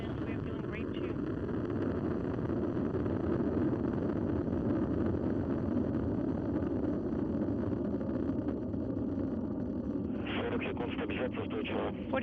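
A Soyuz rocket lifting off on four boosters and its core engine, a continuous distant rumbling roar that a voice talks over, with brief crackling bursts toward the end.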